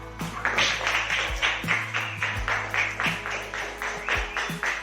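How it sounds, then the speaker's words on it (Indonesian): Sixth-grade class clapping together in a steady rhythmic pattern, a group of children's hands beating in unison, loud and close throughout the whole stretch. "Tepuk tangan, Nak."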